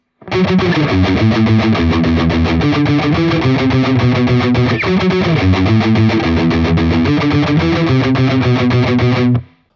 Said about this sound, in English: And that's all palm muted and all alternate picked.